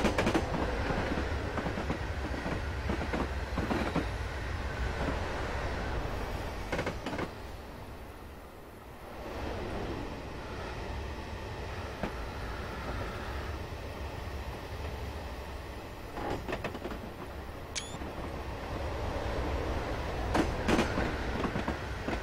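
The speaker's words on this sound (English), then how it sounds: "we are carrying an express passenger train." A BR Class 77 electric express passenger train on the Woodhead Line in Train Simulator 2015 rumbles along steadily, with a continuous broad roar, wheel clatter and a brief high squeal partway through.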